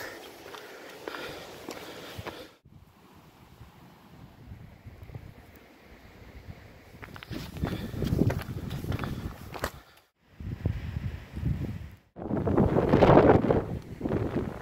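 Gusty wind roars against the microphone outdoors in loud buffeting bursts, easing off and then surging again, with some rustling between gusts.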